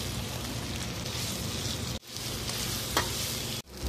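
Cut idli pieces fry in a pan of hot oil with idli podi, giving a steady, close sizzle that breaks off abruptly twice. No one speaks.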